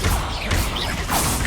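A Confringo fire spell blast in the Hogwarts Legacy video game, a loud burst with crashing impacts and whooshes packed into one and a half seconds amid busy game sound.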